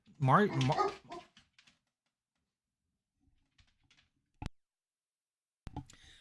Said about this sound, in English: I apologize, the dog's barking.